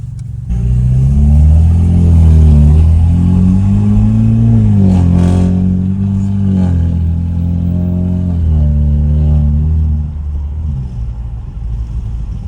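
A stage 2+ tuned BMW F30 328i driving through snow at night, its engine rumbling steadily and swelling through a couple of rising revs before easing off, close and loud with no voices.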